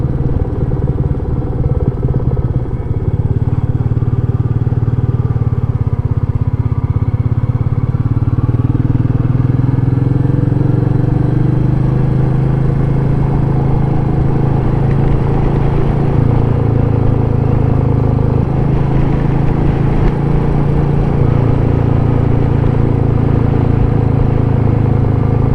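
A Royal Enfield Meteor 350 motorcycle rides along small country roads, its engine a loud, steady low thrum with wind rush close to the rider, pitch shifting gently as speed changes.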